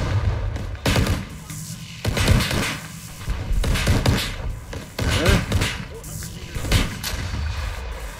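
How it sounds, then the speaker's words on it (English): Enemy gunfire in the Arma 3 video game, a burst of repeated shots and heavy booming impacts spread over several seconds, loud and dense with rumbling thuds between the cracks. "Now he's shooting after me, of course."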